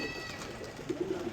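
Pigeons coo close by, a few soft, low, rounded calls near the end, faint over a quiet outdoor background.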